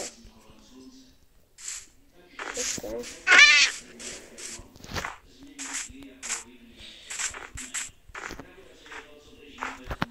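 Blocky Minecraft cat meowing in several short bursts, one louder cry standing out, mixed with game footsteps and shuffling, while a person talks over parts of it.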